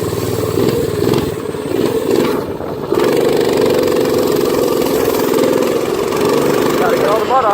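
A minibike engine idles steadily after a muddy trail ride, a loud and close putter that runs throughout with a slight dip in the middle.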